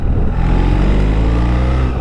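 A BMW R1300 GS motorcycle engine held at about 2,000 rpm, a steady, close, loud mid-range drone with no speech over it.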